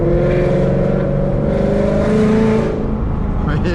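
Ford Mustang 5.0 fitted with long-tube headers and a Corsa Extreme exhaust revving hard on a drive: a loud, deep, roaring engine note that climbs in pitch, steady and close throughout, with a voice faintly under it.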